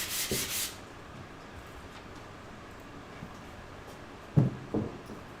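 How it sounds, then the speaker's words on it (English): A hand rubs across a primed canvas surface in one brief, dry rasping stroke at the start. Near-silence follows, broken by a couple of light knocks. "I'm just rubbing my hand across it."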